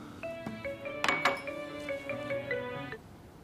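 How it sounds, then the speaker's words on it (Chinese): A telephone rings with a melodic electronic ringtone of repeating stepped notes at moderate volume, joined midway by a couple of brief clinks of dishes. "电话"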